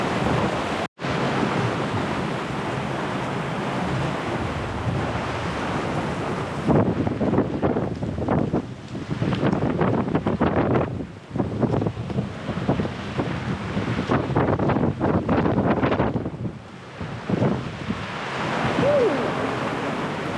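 Strong wind gusts roar over breaking waves around a sailboat dragging its anchor toward shore, a loud continuous rush with surging swells and buffeting microphone wind and no talking.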